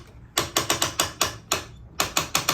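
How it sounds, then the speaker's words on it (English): Ratcheting clicker on a Riffe Euro 100 speargun, engaged during a band-loading punch test, gives a rapid series of sharp, loud mechanical clicks, about a dozen in uneven bursts, up close with no talking. "Engaging the clicker, loud noise."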